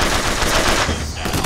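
Rapid, steady gunfire fills a shooter in BioShock Infinite, with loud, dense bursts running continuously and no clear gaps, with no talking over it.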